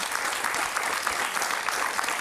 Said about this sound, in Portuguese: Um aplauso para Daniel.